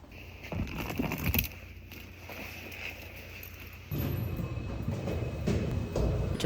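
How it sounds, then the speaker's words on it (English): A New York subway train ride heard from inside the car, with a continuous low rumble and rattling wheel noise that swells louder partway through, plus occasional clanks. "I am on the train."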